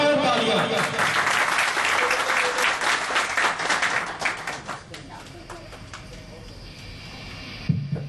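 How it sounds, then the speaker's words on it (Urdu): A crowd at a party's founding-day gathering in Barcelona claps loudly for a speaker joining by phone, dense applause that fades away over several seconds before a voice begins. "موجود ہیں ہمارے پاس موبائل پر آن لائن جناب چودھری سرور صاحب کے لیے بھرپور تالیاں"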